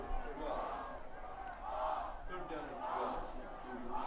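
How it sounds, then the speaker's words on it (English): Crowd at a high school homecoming football game, Stuart Hall vs. Upper Lake, cheering and yelling in swelling waves that rise and fall, heard from a distance at modest volume. "You can hear the fans. We're starting to hear the crowd."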